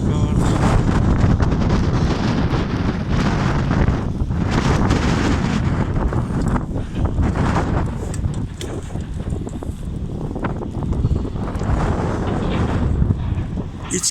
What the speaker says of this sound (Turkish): sahil tarafı esinti var. Adamı üşütüyor. Rüzgar.